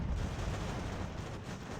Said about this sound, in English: This artillery's firing right into them.